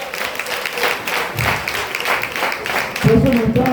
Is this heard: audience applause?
yes